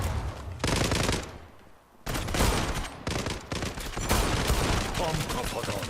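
Galil AR gunfire in a shooter game, bursts of rapid loud shots broken by a short lull, then continuous firing with a player's voice mixed in.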